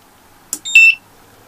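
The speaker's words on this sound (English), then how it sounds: "you can hear some beeping" A single short electronic beep rings out from an off-grid solar inverter being switched on, after a faint click, high and piercing, then quiet returns.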